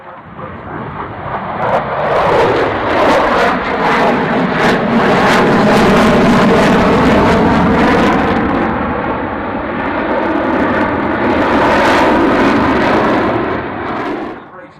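An F/A-18 fighter jet with General Electric F414-derived engines roars past at the Royal International Air Tattoo airshow, a loud sustained jet rumble swelling and fading with an announcer talking over it.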